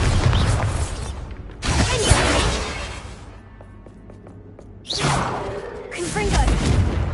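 Bombarda blasting spell in the Hogwarts Legacy video game: a loud booming impact with whooshing and shattering debris, then a quieter lull before a second heavy burst, with game voices mixed in.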